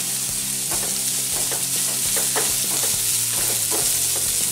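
Onions for Chinese bhel are stir-fried briefly in a pan, producing a loud, dense sizzle with repeated spatula scrapes and clicks in an irregular rhythm, no voices.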